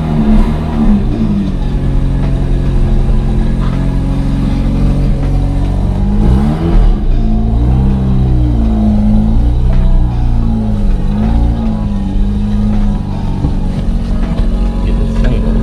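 A Mazda RX8 with a freshly replaced transmission idles loudly up close, then its engine note rises and wavers as it is put in gear and driven off, a steady rotary drone with shifting pitch throughout.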